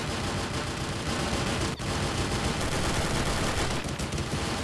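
Gunfire in the Counter-Strike Zero video game fills the whole stretch as a dense, continuous barrage of rapid shots, loud and unbroken apart from one brief dip.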